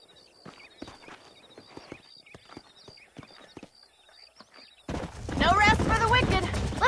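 Horses clip-clop in the Red Dead Redemption western video game, a loose series of hoof hits with faint tonal game sounds, then a sudden loud burst of speech and music takes over near the end.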